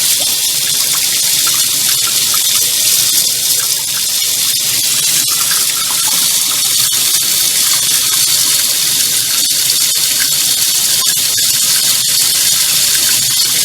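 Hot water gushing from a line fed by a tankless water heater at about 1.5 gallons per minute, a loud, steady, close hiss of flowing water with no break.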